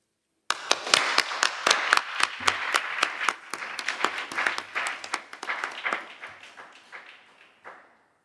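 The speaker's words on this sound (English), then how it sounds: "I would propose to have a round of applause for our speakers." An audience at a women leaders' forum on national resilience gives a round of applause, a burst of dense, fairly close clapping that thins out and fades over several seconds, with no talking over it.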